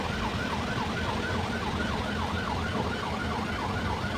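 An ambulance siren wails in a steady rising-and-falling pattern through the whole stretch, loud and continuous, over a constant bed of traffic and road noise on the way to the airport in Lapu-Lapu.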